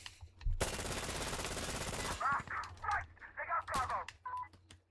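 Sustained automatic gunfire in the video game Insurgency: Sandstorm, a loud unbroken burst lasting about two seconds, followed by scattered single shots and a talking voice over the remaining action.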